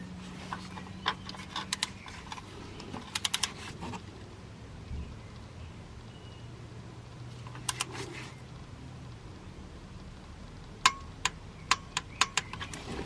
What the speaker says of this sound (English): I'm going to install the new drain plug, and again torque this down to 25 Newton meters